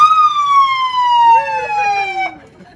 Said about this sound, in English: Can you put the sirens on?